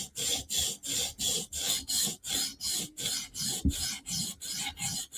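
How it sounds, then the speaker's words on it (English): A knife blade being sharpened with steady, rhythmic rasping strokes, about two and a half per second, each a loud abrasive swish with short gaps between, close up and alone. "Doing a little sharpening."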